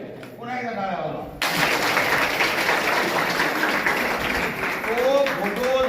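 A crowd at a devotional jayanti festival for a swami bursts into sustained, dense applause after a voice, which clatters on steadily as he starts speaking again over it.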